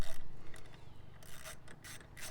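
A wrench turns a 10 millimeter bolt on a 2017 Jeep Wrangler, giving a faint, close ratcheting and scraping metal sound in a few short bursts over low background noise.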